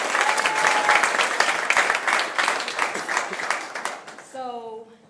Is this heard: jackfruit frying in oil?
no